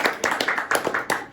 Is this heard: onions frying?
no